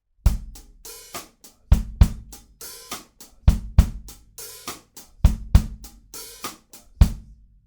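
Drum kit playing a quiet verse groove, steady hi-hat pattern with kick and snare hits in a repeating rhythm, close and clear with no talking.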